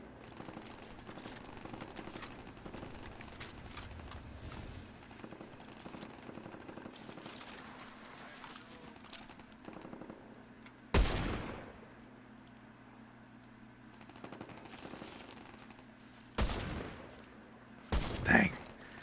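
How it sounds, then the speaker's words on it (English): Video game gunfire rattles in sustained bursts under faint background chatter, with several loud, sharp volleys standing out near the end. "Wow, a lot of firing."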